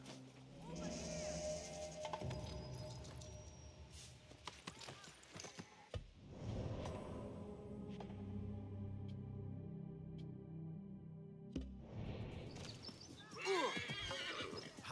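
Horses whinny and neigh repeatedly with hooves clip-clopping in the Assassin's Creed Mirage video game, set in Baghdad, mixed with game ambience and bursts of character dialogue.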